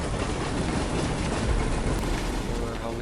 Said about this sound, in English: We're obviously chasing the train into the station.